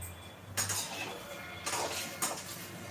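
A frying pan set down on a kitchen stove, a few clanking metal knocks of cookware against the burner with quiet pauses between, fairly close.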